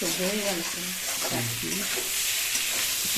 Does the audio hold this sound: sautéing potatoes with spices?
yes